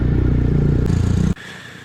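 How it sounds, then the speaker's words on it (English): A 2021 BMW R1250RT LE motorcycle engine runs with a steady low rumble close by, then cuts off abruptly near the end, leaving quiet background. "so I'm going to start the engine"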